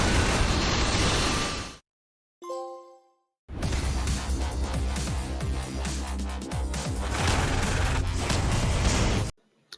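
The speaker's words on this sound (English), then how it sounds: "Just go find all tank mayhem ones and just blow everything up." Explosions and bursts of gunfire in Saints Row The Third Remastered, with a tank blowing things up: loud, dense booms and crackling blasts filling the mix, broken by a couple of short silent gaps and a brief tonal game cue.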